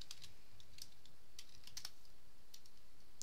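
A password is typed on a computer keyboard as quick, irregular, close clicking keystrokes over faint room hiss, with no talking.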